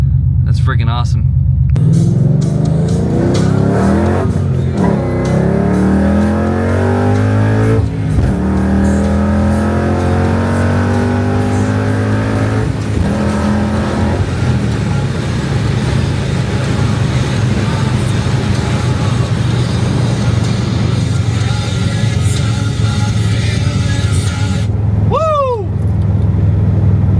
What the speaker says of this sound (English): the car's been idling for freaking almost an hour.